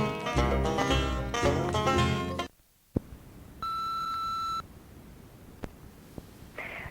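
Telephone line tones on a call-in talk show: a short electronic beep, then a steady two-tone call signal holding for about a second, followed by a few faint clicks on the line.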